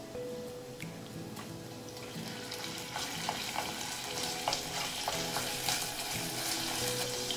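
Ground beef frying in a pan with browned garlic and softened onion, a steady close sizzle with soft stirring scrapes and occasional small pops, no talking.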